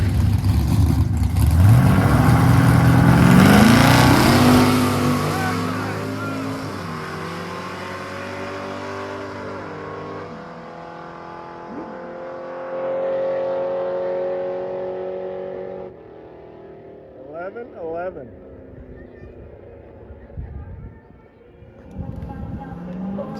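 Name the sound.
old four-door 1956 Chevy accelerating on a quarter-mile drag pass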